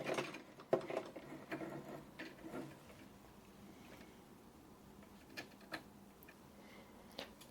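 A sewing machine stitching back and forth along a seam of a bandana headband: a quick burst of mechanical whirring and clicks at first, then quieter scattered ticks and taps.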